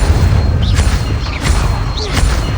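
An Incendio fire spell blast from Hogwarts Legacy, a loud booming burst of fiery rush with dense rumble, sustained through the whole moment, with brief whooshing flares layered on top.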